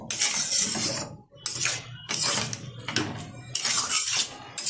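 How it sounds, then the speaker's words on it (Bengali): Dried fish curry being mixed in a cooking pot, a spoon scraping and clanking against the metal in repeated bursts, close and fairly loud, with brief pauses between strokes. "ভালোভাবে মিশিয়ে নিচ্ছি।"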